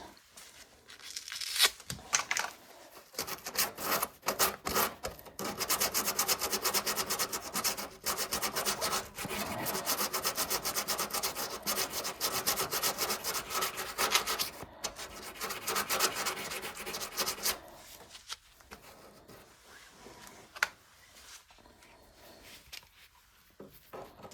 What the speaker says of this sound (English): Sanding paper.